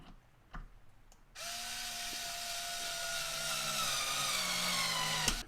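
An old Black & Decker power screwdriver whirs steadily while driving a screw, a continuous motor drone starting after a brief quiet moment and ending with a sharp click, heard alone.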